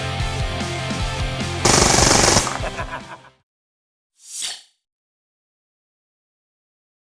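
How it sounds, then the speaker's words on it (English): A Beretta 92 CO2 BB pistol fires a rapid full-auto burst with blowback action, a loud rattling stream of shots that stops abruptly, followed by a brief hiss after a pause. "That's the Beretta 92 right there. Full blowback, full auto."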